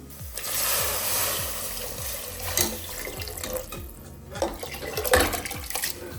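Water poured into a pot holding two cups of basmati rice while ghee rice is being made: a steady splashing stream runs throughout, with faint clinks of the pot underneath and no voices.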